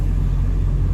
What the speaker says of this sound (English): We're at a rest area and there's trucks just flowing out of here.